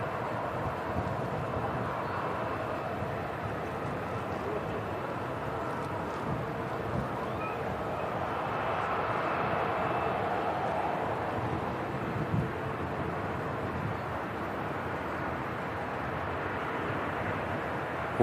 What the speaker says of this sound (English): Ryanair 73 from Oslo, about to land as well.